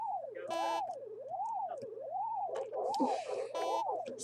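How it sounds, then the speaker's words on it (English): Buzzing electronic noise from the Pac-Man.exe video game, a warbling looped drone with several short harsh static bursts layered over it, loud and continuous. "Stop with the buzzing sounds."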